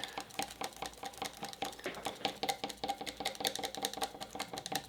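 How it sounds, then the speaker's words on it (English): A coffee stirrer mixes oil-based ingredients for a focus roller blend, making a quick, even run of small clicking and tapping strokes against the container, close but quiet, with no talk. "I just grabbed the coffee stirrer. You're going to mix everything together."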